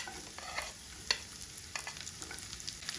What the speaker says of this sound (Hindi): अदरक को कुछ सेकेंड भूनने के बाद डाल देंगे बारीक कटा हुआ प्याज।